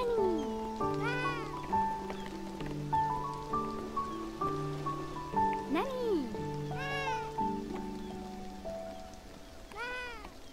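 Several cat meows in the video game Beyond Eyes, some drawn-out and wavering, repeat throughout over steady background music and a soft patter like rain.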